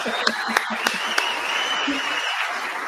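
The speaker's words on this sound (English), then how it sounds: "y'all clap it up for Mr. Relevant in the" An audience on a live NFL mock draft show applauds, a steady wash of clapping with a few sharper individual claps near the start, fairly loud and continuous throughout.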